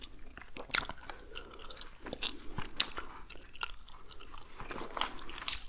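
Gum chewed right up against the microphone, with steady wet smacking and crunchy clicks in an irregular rhythm throughout, close and fairly loud, with no talking.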